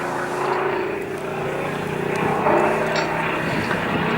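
A Spitfire photographic reconnaissance aircraft flies past at an air show, its propeller engine making a sustained droning roar that swells slightly, heard at a distance over crowd ambience.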